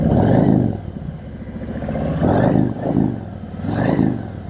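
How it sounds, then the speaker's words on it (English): A red Harley-Davidson Street Glide with chrome Cobra exhaust pipes rides past with a deep, loud rumble, swelling and easing in several throttle surges over a few seconds, with no talking. "Listen to those Cobra pipes."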